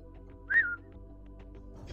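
A single short human whistle rises and falls over a faint background hum, brief and fairly soft, sounding slowed down.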